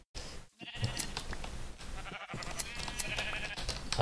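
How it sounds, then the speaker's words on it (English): In the Minecraft video game, sheep bleats sound over a constant dense wash of game noise, with faint background sounds and no clear talk. "Oh, pink sheep."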